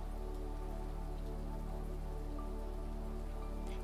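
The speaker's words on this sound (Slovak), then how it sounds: "Teraz len vnímaj dážď," Steady rain falls in a dense, even hiss that never lets up, with faint scattered drops and no voices.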